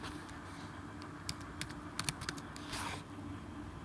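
Scattered keystrokes on a computer keyboard, a few light irregular clicks with a short quick burst near the middle, close and fairly quiet over a soft room hiss.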